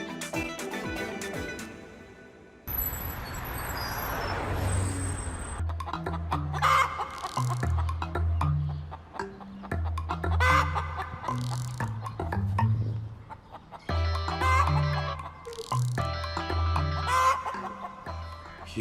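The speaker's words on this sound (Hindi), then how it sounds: "लग तो मुर्गा रहा है" A rooster clucks in a series of short, throaty calls, close and distinct, between stretches of music and a burst of noisy sound, with gaps of quiet between the clucks.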